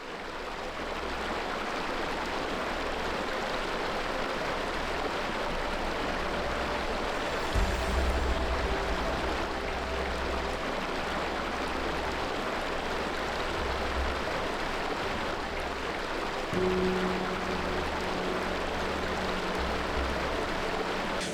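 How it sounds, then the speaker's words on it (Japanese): The Gyoki waterfall in Izu, Shizuoka, a tall mysterious cascade, roars as a steady, dense wash of falling water heard from a distance, constant throughout with low rumbling underneath. "すごく神秘的な滝です。"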